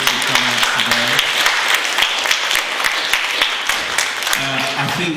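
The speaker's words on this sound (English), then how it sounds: "Can we give them a big round of applause to all the community groups that come out today?" Audience applause for community groups at a library re-opening in Streatham, a steady burst of clapping from a crowd filling the whole stretch, with brief speech at the start and end.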